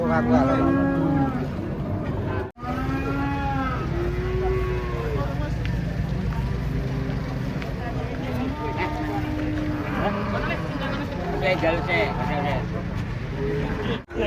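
Calves mooing repeatedly as a crowd of young cattle is unloaded from a truck, with loud overlapping bellows over steady background chatter and engine rumble.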